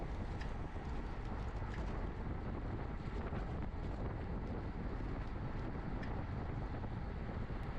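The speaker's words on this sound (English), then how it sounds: "By the time it got late in the day like this, it was pretty windy." Steady, heavy late-day wind buffeting a microphone at a women's bicycle race in California, a constant roaring rush with no pauses throughout.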